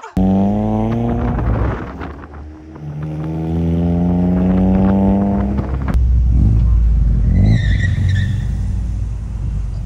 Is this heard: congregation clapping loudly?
no